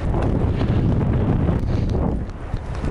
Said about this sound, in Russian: Жесткий ветер. Ветер километров 50 сейчас.